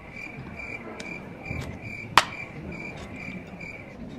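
Crickets chirping as a sound effect, a steady pulsing trill of close, regular chirps with a sharp knock partway through.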